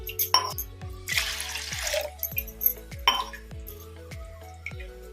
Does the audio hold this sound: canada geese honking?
no